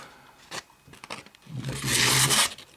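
A military knife sharpened with a file slicing through a sheet of paper, a few short scrapes followed by one longer, louder tearing cut near the end, close and alone.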